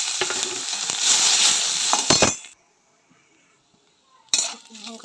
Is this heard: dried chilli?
yes